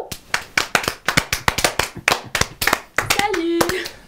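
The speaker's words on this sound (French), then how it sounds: "Un tonnerre d'applaudissements pour Madame Ameline Aubert." Studio audience of a French television talk show clapping loudly and briskly in distinct close claps, with a brief tonal sound near the end.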